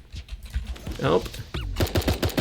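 SMG fire in the cartoon battle royale game Super Animal Royale, a quick rhythmic burst of about half a dozen shots near the end, following spoken talk and game effects.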